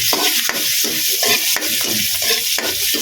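Ginger stirred in a hot pan for Chinese-style squid adobo, loud rhythmic scraping strokes about every half second over a constant sizzle, close and without talk.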